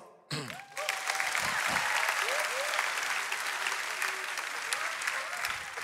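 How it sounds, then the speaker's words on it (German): A church congregation breaks into loud, sustained applause that starts suddenly and holds steady, with a few cheers and whoops rising over the clapping. "Vielen Dank, Applaus"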